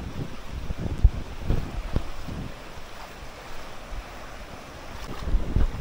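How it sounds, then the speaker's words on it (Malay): Sea waves at a Terengganu beach on a windy morning after rain surge and wash in uneven swells, mixed with gusty wind buffeting the microphone, with no talk. "Hari ni malam tadi lepas hujan tiba-tiba angin kuat sikit, dia berombak lah hari ni."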